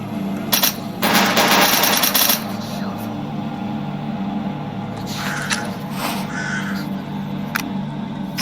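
In the video game S.T.A.L.K.E.R. Anomaly, a grenade blast erupts as a loud broadband burst lasting over a second, followed by scattered sharp clicks and impacts over quieter game ambience.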